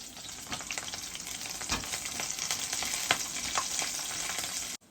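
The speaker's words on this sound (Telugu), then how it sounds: "ఇప్పుడు మూడు పచ్చిమిరపకాయలు చీలికలు వేసేద్దాం" Three slit green chillies fry and spatter in hot oil, a steady close crackling sizzle with sharp pops scattered throughout, ending abruptly.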